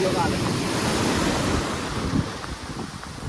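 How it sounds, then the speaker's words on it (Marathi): Sea waves break and wash onto a Ratnagiri beach, a continuous rushing surf with heavy wind buffeting the microphone and no voices. "भाई येऊ द्या आता लाट"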